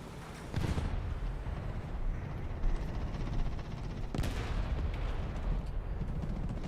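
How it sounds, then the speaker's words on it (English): Artillery barrage in the War Thunder combat game: a continuous dense roar of distant blasts and rumbling impacts, with sharper explosions standing out near the start and again around four seconds, steady and loud throughout. "Our sector is under artillery barrage!"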